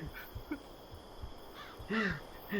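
A crow caws in the video game Sign of Silence, several harsh, fairly faint calls spread across a quiet background, the last pair louder and closer.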